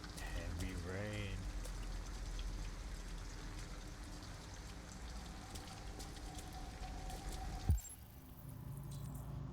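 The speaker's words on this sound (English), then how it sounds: "Heavy rain." Heavy rain falls in the video game Detroit: Become Human, a faint, steady patter under a voice and a brief rising tone, then dropping away to a quieter background near the end.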